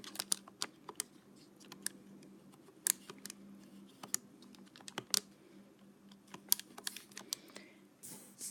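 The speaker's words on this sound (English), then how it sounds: "You're going to type that into your calculator." Buttons pressed one after another while entering figures into a calculator for a statistics calculation, a run of quiet, irregular clicks and taps with brief pauses, faint and close, with no talking.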